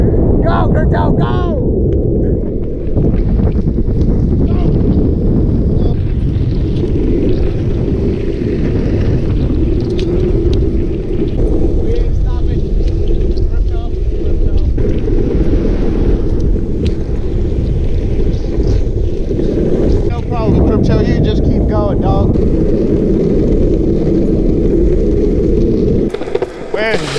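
Wind buffets the microphone outdoors at a pumpkin patch, a heavy, steady low roar that lasts throughout, with voices breaking in now and then.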